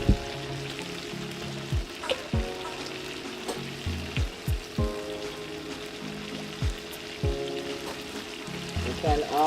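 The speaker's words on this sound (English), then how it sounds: "I'm going to go ahead and add some more anatto oil to the shrimp" Shrimp fry in annatto oil in a pot with a steady, close sizzle. Sharp clinks and scrapes of a utensil against the pot break in at irregular moments, and no one speaks.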